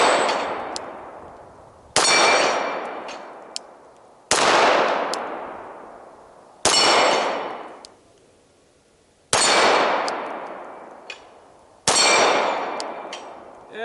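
Glock GS17 pistol shots ringing on steel targets, six sharp metallic clangs spaced about two seconds apart, each with a long bright ring that fades before the next hit.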